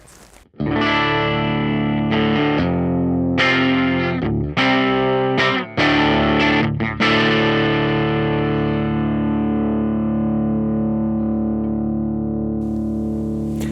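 An electric guitar through a Fender Mustang Micro Plus headphone amplifier, with no pedal, plays a series of sustained, ringing chords with a slightly driven tone, the last one left to decay slowly.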